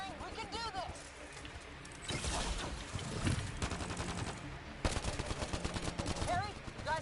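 Weapons firing in Mass Effect Andromeda, dense bursts of rapid shots that build into heavy sustained gunfire with loud surges, mixed with game sound effects and voices talking over the shooting.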